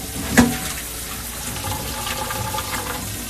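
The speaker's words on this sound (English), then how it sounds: "just dump them in your strainer. That's it, just strain and rinse." Tap water runs steadily over canned chickpeas in a metal strainer at a sink, a continuous close hiss of rinsing with one brief clatter near the start.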